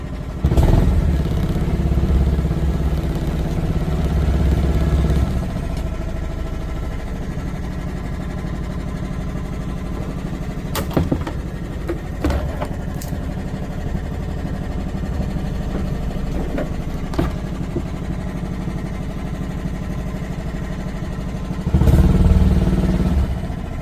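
An outboard boat motor, a Mark M Tillotson 212E conversion, running steadily upriver with a loud continuous drone and occasional clatter, swelling near the start and end.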